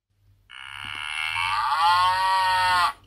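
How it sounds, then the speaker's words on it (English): A single cow moos loudly and close, one long drawn-out call with a steady rising tone that lasts about two and a half seconds, with no talking over it. "Shall we hear what a cow sounds like?"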